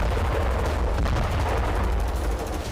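Israeli bombardment over Gaza, a dense, continuous roar of blasts and rumbling impacts that stays loud throughout with no gaps, like heavy distant shelling blended into one wall of noise.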